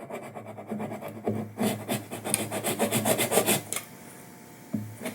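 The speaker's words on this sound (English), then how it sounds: "I'm just going to use a saw real quick to clean out any crud that's inside there." Hand saw cleaning crud out of a fret slot on an unbound guitar fretboard, with steady rapid back-and-forth rasping strokes, loud and close, starting briefly, then a longer burst before stopping.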